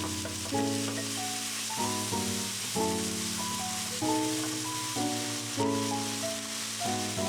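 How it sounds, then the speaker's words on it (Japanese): Diagonally sliced leeks stir-fried in a pan with already cooked ingredients, a steady close sizzle while music plays over it, without talking. "全体に火が通ったら長ネギを加えてさっと炒める。"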